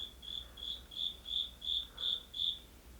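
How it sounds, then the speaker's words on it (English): A single cricket chirps in steady, evenly spaced high pulses, about seven in three seconds, fairly close and clear over a quiet background with no voices. "Listen to the cricket."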